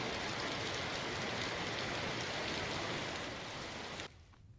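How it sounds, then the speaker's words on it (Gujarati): Heavy monsoon rain pours steadily in Dwarka, Gujarat, a dense, even hiss close by that cuts off abruptly near the end, with no voices. "મેઘમહેર થઈ રહી છે"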